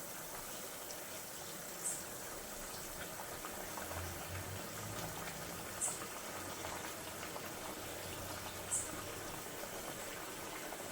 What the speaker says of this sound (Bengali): ঝোলটা খুব ভালোভাবে ফুটে গেছে।